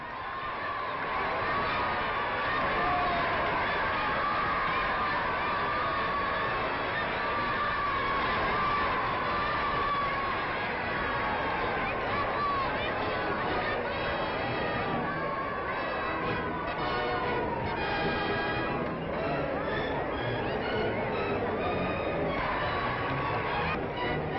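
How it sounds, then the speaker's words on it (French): A large street crowd in Algiers in 1949 cheers and shouts continuously for the visiting French president Vincent Auriol, a dense roar of many voices that holds steady throughout, with some children's shouts mixed in. "au milieu des acclamations populaires"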